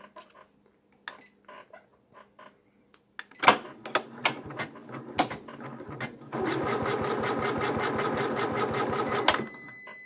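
A Janome MB4 embroidery machine starts stitching appliqué for a quilt block: scattered clicks and short mechanical bursts, then a loud, fast, steady rattle of stitching that runs for several seconds before stopping.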